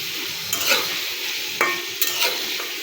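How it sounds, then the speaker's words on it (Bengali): Dried loitta fish frying lightly in a pan with a steady close sizzle, broken by a few brief stirring scrapes and clinks. "হালকা একটু ভেজে শুটকিগুলো দিয়ে দেব"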